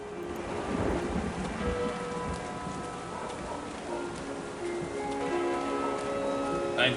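Steady rain falls over a village in King's Quest: The Silver Lining, a continuous loud hiss with low rumbles of thunder rolling beneath it, heard alone without any talking.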